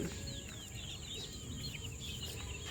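White Kelso gamefowl chickens in a coop give soft clucks, with high chirping calls from other birds overhead, a gentle, continuous farmyard murmur at moderate distance.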